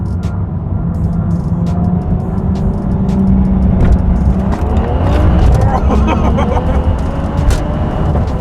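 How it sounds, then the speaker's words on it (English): A BMW N55 turbocharged engine revs steadily while being brake boosted, a loud sustained drone with rising and wavering pitch, heard under a voice talking throughout. "I do brake boost."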